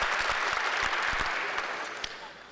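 Applause from the audience during a governor's address to the Alaska Federation of Natives, steady clapping with a few sharp claps that gradually fades toward the end.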